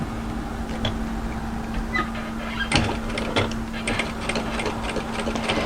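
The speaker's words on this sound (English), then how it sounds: "we're going to sew a line of stitches to secure this down." A sewing machine stitches a line through dress binding, running at a steady mechanical hum with a light rhythmic ticking and a few clicks, close and continuous with no talk.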